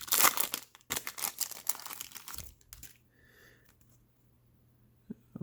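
A wrapped pack of Topps Chrome trading cards is torn and opened up close, giving loud crinkling and tearing bursts for about three seconds before it falls quiet, with a few small rustles at the end.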